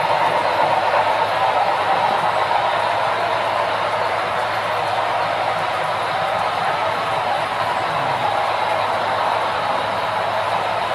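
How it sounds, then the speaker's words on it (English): A passenger train rumbles past steadily, loud and continuous, with a broad roar of wheels and cars that holds evenly throughout. "And here comes the passenger train."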